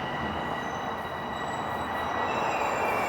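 A Toronto subway train at Lawrence West Station, heard as a continuous loud rumble of rail cars with high wheel squeal and tonal whine, steady throughout with no talking.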